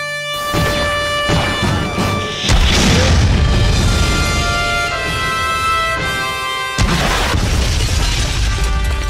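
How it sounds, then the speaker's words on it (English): Rocket launcher blasts from rocket jumping in a first-person shooter video game, a loud booming explosion followed by a second heavy blast, close and dominant with rumbling low end. "Aim below your feet, jump and shoot, and you're in the air."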